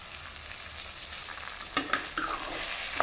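Taro pieces frying in oil with salt and chili powder, a steady close sizzle with a few clinks and scrapes of stirring toward the end.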